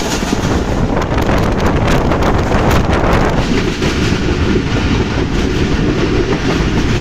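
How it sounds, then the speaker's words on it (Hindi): A passenger train running between Rahim Yar Khan and Lahore, heard from inside an economy-class carriage: a steady, loud rumble of wheels on track with faint rhythmic clatter and wind noise throughout. "लेकिन तब जब ट्रेन चलने लगी थी"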